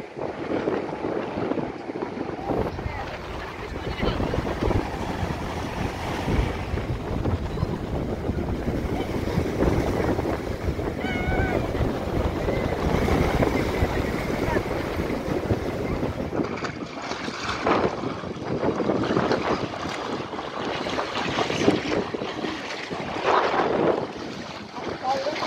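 Strong wind sweeps across Puri sea beach in a steady, loud roar with gusting surges and crashing surf throughout, with faint voices in the background.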